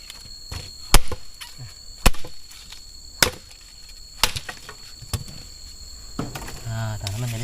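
Firewood being chopped at a riverside campsite shelter, sharp woody cracks spaced about a second apart with softer knocks between, close by, and a voice starting up at the end.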